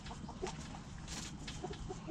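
Hens cluck softly in a coop with a newly introduced rooster among them, scattered short calls repeating throughout under a steady low background hum.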